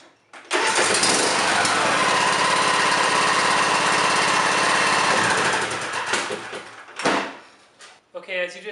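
A riding lawn mower's small engine cranks and catches after a battery change, then runs loudly and steadily for several seconds before cutting off, followed by brief knocks.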